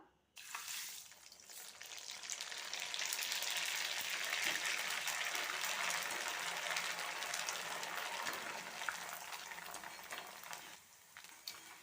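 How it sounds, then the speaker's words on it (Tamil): Sago pearls deep-frying in hot oil for a sabudana mixture give a steady, bright sizzle. It swells quickly and holds, close and continuous, for about ten seconds before dropping off. "ஜவ்வரிசி கொஞ்சம் கொஞ்சமாக சேர்த்து பொரிச்சு எடுத்துக்கலாம்"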